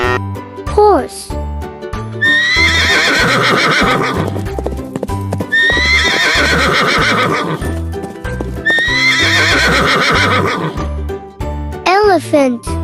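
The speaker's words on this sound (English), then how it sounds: "Horse." A horse whinnies sharply at the start and end, with rhythmic hoof clip-clops and jingling over a steady musical beat in between, all close and loud.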